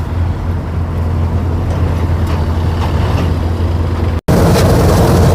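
A Kartar 4000 combine harvester cutting crop in a field, producing a loud, steady engine drone and mechanical rumble throughout, broken only by a momentary dropout before resuming.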